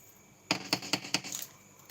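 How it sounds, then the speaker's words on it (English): Pencils rattle inside a plastic bag with about five sharp, clattery shakes in quick succession. The sound is close and fairly quiet, with no talking. "Sound like pencils. Listen."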